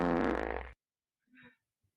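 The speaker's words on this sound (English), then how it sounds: "Your mom makes fart sound effects?" A loud, buzzy fart sound effect blares for under a second and cuts off abruptly, followed by a brief softer blip after a pause.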